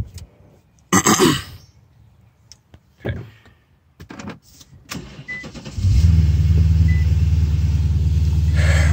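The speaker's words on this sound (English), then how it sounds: "So let's start the car." An Infiniti M56 V8 starts up with the driver's door open: a few clicks and handling noises, then the engine catches and settles into a steady, close idle hum, with a brief spoken word just before.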